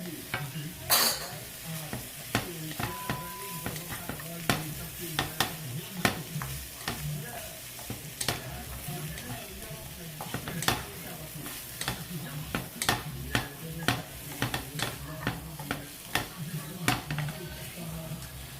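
Carrots go into a pan of translucent onions and sauté there, making a steady sizzle broken by frequent scraping, clinking stirs of a utensil against the pan that sound close and fairly even, with no talking.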